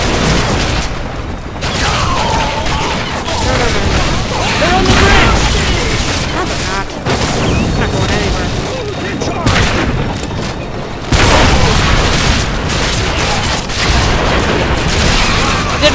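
Gunfire and booming explosions from the fantasy action game Orcs Must Die 2, dense and loud with repeated bursts and blasts throughout, mixed with game effects while a person talks over the action.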